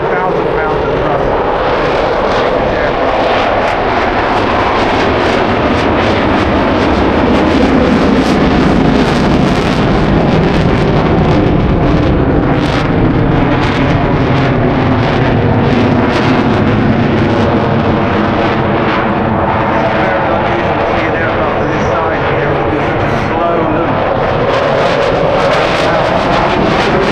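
A jet fighter at an airshow climbs from minimum speed into full reheat afterburner, rated at 52,000 pounds of thrust. A loud, continuous roar with wind buffeting runs the whole time, and a commentator talks over it.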